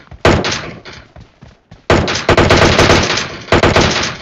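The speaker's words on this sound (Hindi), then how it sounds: "ओम की गोलियां मत बर्बाद करो" Loud, rapid bursts of automatic gunfire in a video game, several volleys with a brief pause early on, close and sharp.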